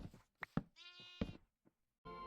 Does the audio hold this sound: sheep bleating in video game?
yes